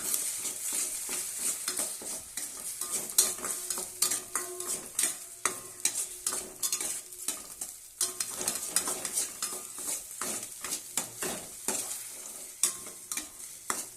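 Egg rice frying in a pan, a soft steady sizzle under rapid, repeated scraping and tapping of a spatula stirring the rice, close and continuous with no speech.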